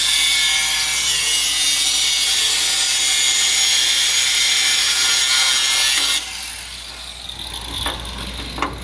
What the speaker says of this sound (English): I'm gonna hold the bolt up, and Andy's gonna grind from the other side.